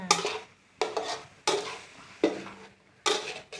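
Minced pork stir-frying in a pan for a spicy khua kling dish, five sharp bursts of sizzling and scraping as the meat is tossed, each fading before the next, close and fairly loud.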